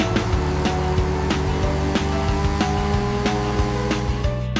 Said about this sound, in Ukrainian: Родстер це машинка, яка створена для поїздок удвох і легких пригод.